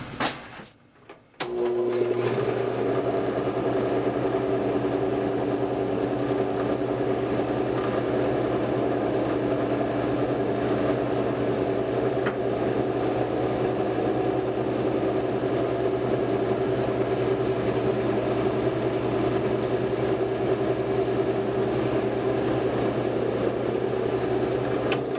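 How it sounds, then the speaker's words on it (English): A homemade slow-speed grinder's motor switches on after a brief pause and runs steadily at close range, a constant mechanical hum with a faint vibrating buzz and no talking. "The vibration seems to be coming from the motor, not the grinding wheel part."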